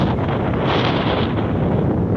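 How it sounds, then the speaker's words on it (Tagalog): Strong typhoon wind roars steadily across an island setting in Saipan, a loud broadband buffeting that batters the microphone without pause for the whole stretch, with no voices heard. "Ganyang kalakas talaga ang bagyo dito."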